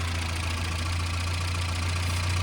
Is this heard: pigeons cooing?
no